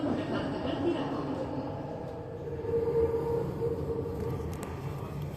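A Chennai metro train runs along the track with a steady, muffled rumble heard from inside the carriage, a faint whining tone rising midway, while people talk over it.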